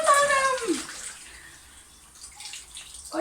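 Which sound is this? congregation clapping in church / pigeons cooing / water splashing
water splashing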